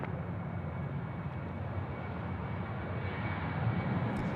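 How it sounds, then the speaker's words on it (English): A Qantas Boeing 737 comes in to land on runway 34 right at Sydney Airport, a steady broad engine roar heard from a distance, constant and moderately faint with no voices. "Here we go, Qantas 737."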